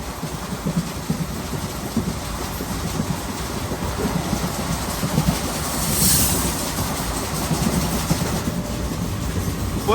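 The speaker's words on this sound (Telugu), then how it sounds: "తిరుపతి పూరి బండి క్రాసింగ్ చూసేద్దామా?" A Puri–Tirupati express train rolls past on the adjacent track, a steady close rumble and wheel clatter lasting throughout, heard from another train.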